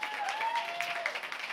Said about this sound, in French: commencez à applaudir nos invités.